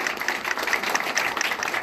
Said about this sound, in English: big round of applause for our exciting panel